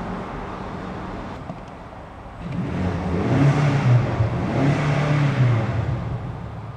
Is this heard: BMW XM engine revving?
yes